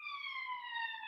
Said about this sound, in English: that sounds like an American siren.